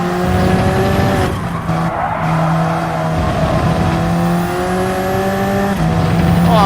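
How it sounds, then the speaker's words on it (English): In Gran Turismo 7, a race car engine holds a steady high drone with shifts in pitch, broken by brief bursts of tire squeal and skidding, loud and close. "Car sound, engine sound."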